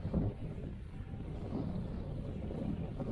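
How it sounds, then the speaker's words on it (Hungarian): Strong wind buffets the microphone in a steady low roar, with gusts rising and falling throughout. "Baromi erős szél fúj."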